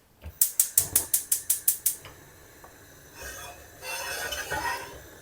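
A gas stove burner's igniter clicks about nine times in a quick, even run, then the flame catches with a soft rushing whoosh that lingers, heating a pan holding two pounds of sugar for homemade blackberry vinegar.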